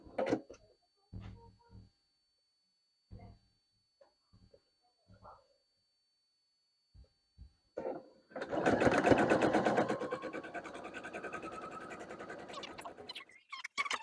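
Domestic sewing machine stitching quilt blocks together, starting after a few scattered handling clicks and taps, then running steadily and close for about six seconds with a dense mechanical whir.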